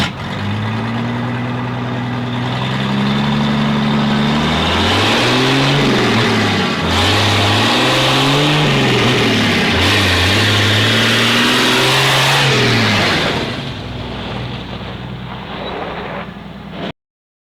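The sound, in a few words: loud vehicle driving by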